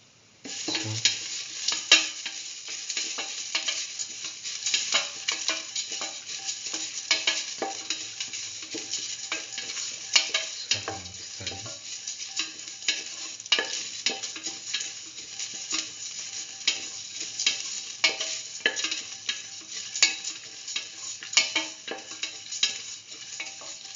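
Ginger frying in a pan for mustard chicken rice in coconut milk: a steady, close sizzle runs throughout, with frequent scraping and tapping from the stirring utensil and no talking.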